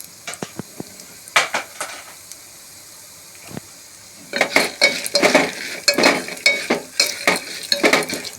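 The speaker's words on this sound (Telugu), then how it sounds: "ఇలా అయితే వేపేస్తున్నానండి ముందుగా ఎండుమిరకాయలు వేసాను తర్వాత శనగపప్పు వేసాను" Dry red chillies and chana dal roast in a pan, with sparse scrapes and taps at first, then a denser run of loud, close stirring clatter and rattling against the metal.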